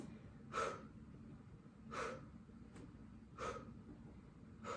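Forceful breaths pushed out during an intermediate mat Pilates exercise, four sharp exhales at a steady interval of about one and a half seconds, close and fairly quiet.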